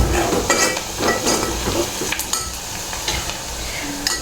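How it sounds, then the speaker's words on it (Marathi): Ginger powder and coriander powder are stirred into a vegetable dish made from dhopa tuber in a pan. A spoon scrapes and clinks against the metal in irregular strokes over a soft, steady sizzle, close and clear. "याला आपण थोडंसं मिक्स करून घेऊ."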